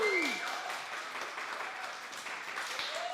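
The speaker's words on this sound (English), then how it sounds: "let's hear you guys make a round of applause and get the vibe up in the room." A small campus crowd at a live student music event gives a thin round of applause, quiet and somewhat distant, with a faint tonal sweep at the start and end.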